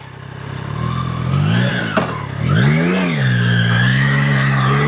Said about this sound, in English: right when I say that, a car comes